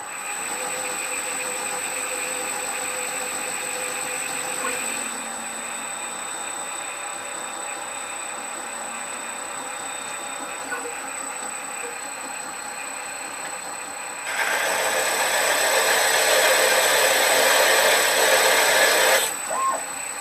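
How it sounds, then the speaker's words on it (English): A Myford Super 7 lathe parts off EN8 steel with a 3mm wide blade at about 500 RPM, feeding 1 thou per rev; a steady mechanical hum and high whine run throughout, swelling into a louder, harsher cutting roar near the end. "that's a 3mm wide parting blade and it's feeding at 1 thou per rev"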